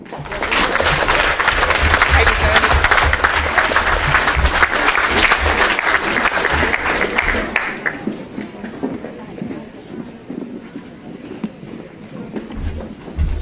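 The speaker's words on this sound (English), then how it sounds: "Big round of applause." An audience applauds prize winners at the Drogheda Minds Exhibition school awards. Loud, sustained clapping lasts about eight seconds, then dies away into quieter room sound with someone speaking.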